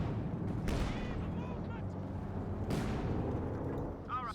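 A grenade explodes in a Company of Heroes 2 match between German and US forces. Sharp blasts and crackling battle noise sound over a constant low rumble of combat, and game effects flare near the end.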